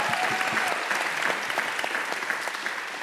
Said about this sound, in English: She gets an applause, absolutely.